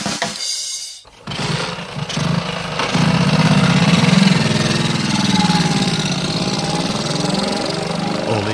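A moped's small two-stroke engine runs steadily after a brief quiet start, droning loud and close with a buzzing, slightly uneven tone that holds for several seconds.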